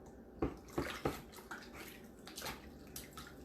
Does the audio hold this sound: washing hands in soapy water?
yes